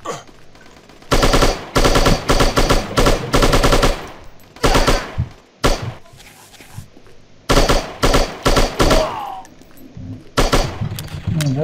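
Loud automatic gunfire from a mobile shooting video game comes in several long rapid bursts separated by short gaps, close and punchy, with someone talking briefly between volleys.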